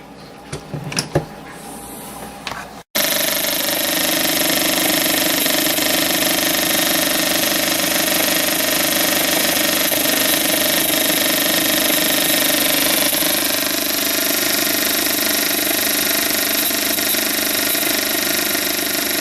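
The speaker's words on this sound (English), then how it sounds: "The injector pulsing just fine." Engine test rig running on HHO gas through a pulsing gaseous fuel injector: after a few seconds of handling noise, a loud, steady mechanical drone with fine rapid ticking holds unbroken to the end.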